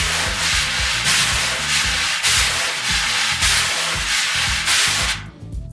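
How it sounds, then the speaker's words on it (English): Wire brushes pressed down into a drum head to make accents, a steady broad swishing rub with regular swelling pulses, close and loud, with no talk, ending in a brief quieter moment. "we have the pressure accents, which you get the accent by pressing down into the head like this"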